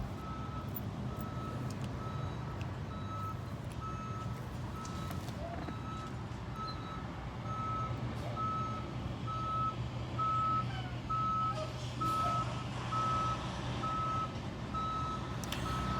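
A truck's reversing alarm beeps steadily and evenly over a loud, continuous engine rumble and traffic noise, with no speech.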